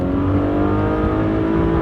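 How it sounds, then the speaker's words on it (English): Loud, close drone of an old car engine pulling hard under acceleration, a steady rising tone that fills the whole stretch without voices. "that engine's got a nice sound to it"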